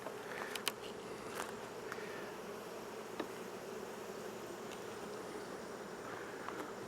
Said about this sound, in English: Smoke them down just a bit. It's a busy hive.